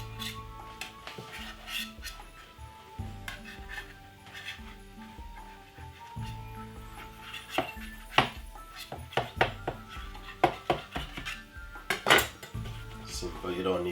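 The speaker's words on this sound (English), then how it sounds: "Use a knife and simply cut off the edges." A knife scrapes and taps against a metal pan while trimming quiche pastry edges, producing irregular clinks, scrapes and sharp metallic knocks close up, growing busier toward the end.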